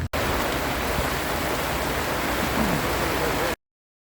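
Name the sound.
heavy rain falling at a forest rally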